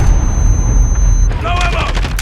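Cluster strike explosions in the game Modern Warfare, a dense rumbling barrage of booms with a steady tone and metallic ringing over heavy low-end noise.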